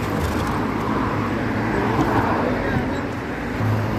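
Heavy road traffic near a shopping mall forms a continuous, dense rumble of passing vehicles, fairly loud and close, with a person talking over it.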